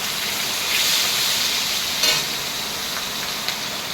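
Black cumin seeds and green chillies sizzling in hot oil in a pan while preparing Bengali mustard eggplant with hilsa, a steady close hiss with a brief louder crackle midway.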